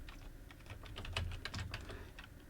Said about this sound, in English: I'm going to type video / and the name of my file is